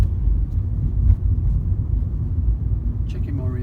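A car pulls away and drives down a road, heard from inside the cabin as a steady, loud low rumble of engine and road noise that holds throughout, with a faint rising whine near the end.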